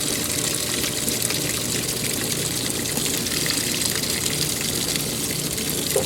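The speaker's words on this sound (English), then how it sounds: "there's the fill for the warm rinse" Water gushes steadily into a washing machine filling for the warm rinse, a constant close rushing hiss with no break across the whole stretch.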